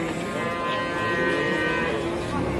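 Cattle moo at a busy livestock market, with one long, loud, close low bellow that fills the clip over a dense crowd murmur.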